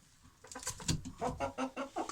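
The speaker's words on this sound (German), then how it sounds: "Da mein neuer Gockel, gell?" A young rooster on a small backyard chicken flock gives a run of rhythmic clucks, several short calls in steady succession, close by and fairly quiet, with no talk over them.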